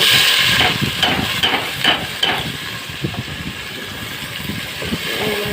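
Onions frying in oil left over from frying potatoes for a chicken and potato curry. A steady, close hiss and sizzle runs throughout, broken by faint taps and scrapes of stirring.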